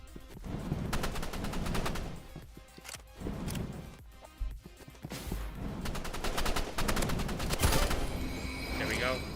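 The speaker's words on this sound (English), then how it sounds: "Nazar with the flamethrower. Last resort, I see. Pulling out his flare gun." Rapid bursts of flamethrower and flare gun fire in a Roblox tournament match, loud crackling volleys that come in several dense waves and shorter pops, with brief gaps between them.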